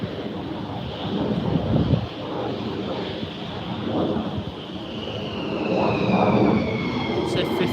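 F-15 and F-35 military jets at RAF Lakenheath produce a distant, rolling rumble that swells and fades in waves, with a faint high engine whine rising near the end and people speaking quietly over it.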